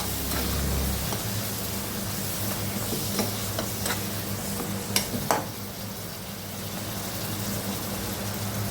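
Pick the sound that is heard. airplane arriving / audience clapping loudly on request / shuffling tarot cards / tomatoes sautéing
tomatoes sautéing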